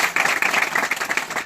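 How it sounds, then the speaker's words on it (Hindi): Audience clapping to welcome guests at a village gathering in Madhya Pradesh, a steady, dense patter of many hands, fairly close and continuous with no talk over it. "हम ताली बजाकर उनका स्वागत करेंगे।"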